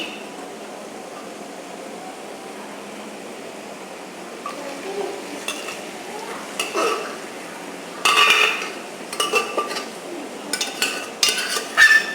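Metal clanks and scrapes against a metal wok as pressure-cooked raw jackfruit is added, a few sharp bursts after a quiet start, close by over a faint background hiss.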